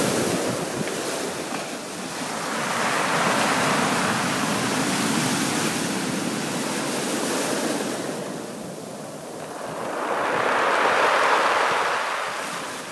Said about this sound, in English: Just the sound of this pebbly beach.